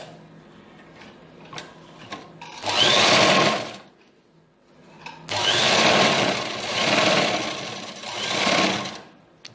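Sewing machine stitching a zipper onto a cloth cosmetics bag: a short burst of rapid mechanical whirring, a pause with faint clicks, then a longer run that rises and falls in two surges, close and loud.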